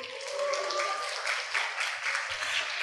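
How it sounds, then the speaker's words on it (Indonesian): Students at a leadership training session clap for classmates who scored 16 to 20, a fairly soft, steady patter of many hands in a room, with faint murmuring underneath. "Tepuk tangan buat yang 16 sampai 20."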